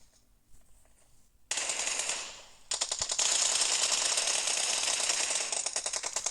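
Rapid automatic gunfire from a shooting video game rattles on loudly and almost without a break for several seconds, with no voices over it.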